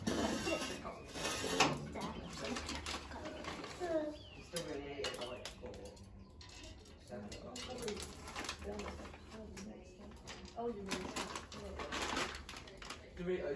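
Pigeons or doves cooing at a garden table, soft repeated coos mixed with light clinks of dishes and cutlery, with people talking throughout.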